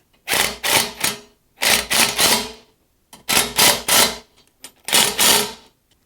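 A wrench tightens a nut on a bolt on a boat trailer fitting in four quick ratcheting bursts, each a cluster of sharp clicks, close and loud, with short silences between.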